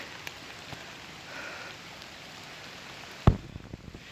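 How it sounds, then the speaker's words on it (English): Water overflows a dam wall after heavy rain, a soft, steady broadband rush heard from a short distance, broken by one sharp knock near the end. "you can see the dam is seriously overflowing"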